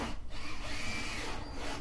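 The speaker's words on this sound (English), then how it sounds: "I'm going to line up and just start filing basically" A hand file rasps against a scrap wood chuck bed rest in close, repeated strokes, each gritty scrape rising and falling with the back-and-forth motion.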